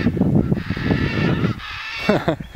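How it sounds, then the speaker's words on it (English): Raucous parrot calls, harsh squawks and honking cries, repeat over a noisy background, with a voice briefly audible near the end. "exotic birds the neighbors parrots and stuff"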